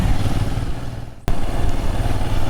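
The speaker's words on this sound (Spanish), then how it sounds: "Acá hay motos ya más grandes también." Motorcycles running along a street in Brazil, a steady loud engine drone with a brief break midway before the roar resumes, continuous and close.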